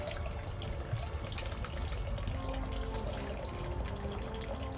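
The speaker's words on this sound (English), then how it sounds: "one that travels behind the copper monolith, obviously the slower feed, which you can see dripping" Water from a slow feed drips behind a copper monolith garden water feature, heard as a continuous close trickling and splashing with a busy, even texture.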